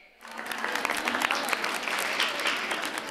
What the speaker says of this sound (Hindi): हम तालियों के साथ उनका स्वागत करेंगे